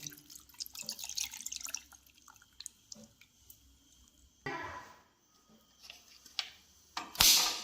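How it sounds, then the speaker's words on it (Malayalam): Water poured into an old pressure cooker holding country chicken with turmeric and salt: scattered drips and trickles, a short gush midway and a louder splash right at the end, with no talking. "വെള്ളം ഒഴിക്കുക"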